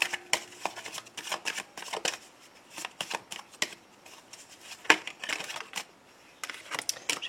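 Tarot cards shuffled close up in quick, crisp bursts of riffling and slapping, pausing briefly before starting again, with no talking.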